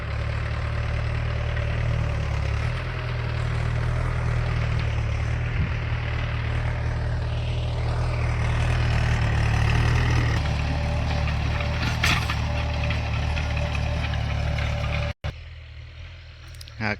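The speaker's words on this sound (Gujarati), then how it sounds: "આ આપણે ચાંદા છે ને ખેતરે ટ્રેક્ટર ખેડતું છે." A tractor ploughing a farm field, a loud continuous low engine drone held steady for most of the time, then cutting out abruptly near the end, leaving a quieter, thinner rumble.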